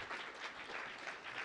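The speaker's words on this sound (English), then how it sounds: "let's give one final applause to our speakers here." Applause for the speakers at a mobile app engineering conference, a brief dense crowd clapping sound, even and moderately distant throughout.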